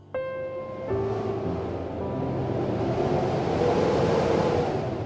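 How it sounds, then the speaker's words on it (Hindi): A sudden strong wind rises as a blizzard sets in. It is a loud, broad rushing roar that swells after a brief tonal chime and keeps blowing steadily to the end. "तभी अचानक तेज हवा चली।"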